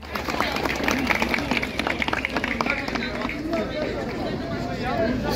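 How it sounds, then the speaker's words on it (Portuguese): People in a gymnasium used as an earthquake relief donation centre in Turkey clap as a shipment of donations arrives. Scattered clapping mixes with busy crowd babble, footsteps and movement, under a constant indoor hubbub with voices talking. "Cada carregamento com doações é recebido com uma salva de palmas."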